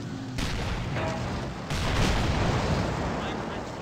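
A 120mm mortar fires in the war video game Real War Game: Battle of Kursk, dense booming blasts blending into a continuous rumbling barrage, loud and close.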